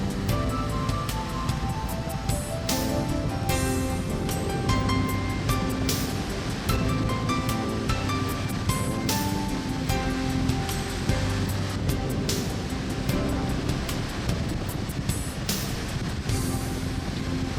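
A steady, continuous roar of rushing water and wind near Stryn, Norway, carries on throughout, loud and unbroken, with no voices.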